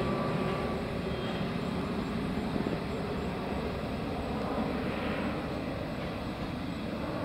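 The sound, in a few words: RC airplane gliding down to land in hurricane winds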